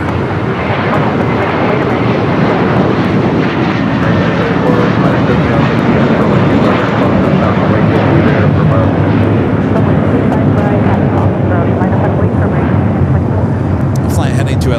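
Airbus A321ceo jet airliner at LAX airport, a loud continuous engine roar that holds steady and close throughout, with a voice talking over it.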